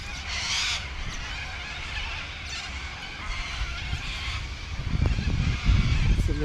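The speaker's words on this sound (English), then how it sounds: "Listen to those birds." Birds call from trees at a riverside campsite in Yarrawonga in the early morning, a loose mix of scattered honks, caws and chatter, with some rustling and louder bursts near the end.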